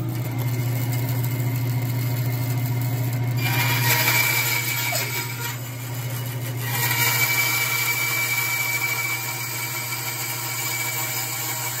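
A power saw hums steadily while cutting through a manzanita wood pen blank, with a high whine rising and falling between passes, close and continuous, no voices.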